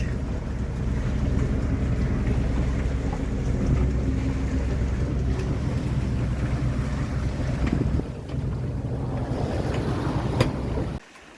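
A sailing yacht on a Pacific crossing motors under engine power at night, its low steady engine drone mixed with wind buffeting the microphone, continuous for over ten seconds before cutting out abruptly.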